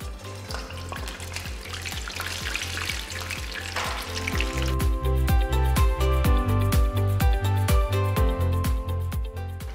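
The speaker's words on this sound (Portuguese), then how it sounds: "E a gente vai colocar para fritar." Karinto manju, a fried Japanese sweet, frying in hot oil with a steady bubbling sizzle, with a rhythmic musical beat playing over it and getting louder halfway through.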